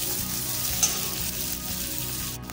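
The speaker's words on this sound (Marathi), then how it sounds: "लसूण भाजले, आता मिरची टाकून घेऊया। मिरची चांगली भाजून घेऊया।" Garlic and green chillies fry in a pan with a steady, close sizzle and crackle, broken by a few soft stirring scrapes, with no voices.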